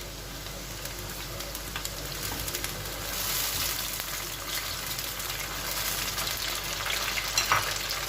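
Tomatoes and green chilies sizzle steadily in a hot pan, a soft continuous crackle with occasional stirring scrapes, fairly quiet and close.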